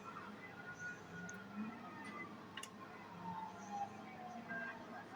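A police siren wails in the GTA 5 video game as officers chase the player's car, a wavering electronic tone sweeping up and down at a moderate distance, sustained throughout over a low engine drone.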